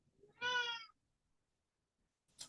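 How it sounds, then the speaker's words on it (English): A pet cat gives one clear, drawn-out meow close by, followed by near silence and a brief faint sound at the end. "That's my cat."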